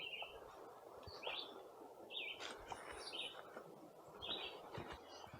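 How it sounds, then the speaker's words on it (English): Several birds sing and chirp in open deciduous forest on a morning near fissure caves, with repeated short whistled phrases from a few directions over a faint steady background and no voices. "The birds are birdieing this morning."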